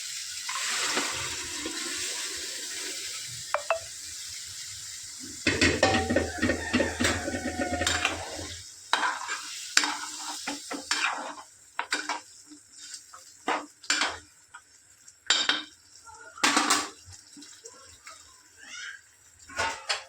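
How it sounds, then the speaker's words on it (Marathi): Cooked mutton tipped into frying masala in a pot and stirred: a wet rushing slide as the meat goes in, followed by repeated close scraping clanks of a spoon against the pot. "आता आपण जे मटण शिजवलं होतं ते टाकून घेऊयात"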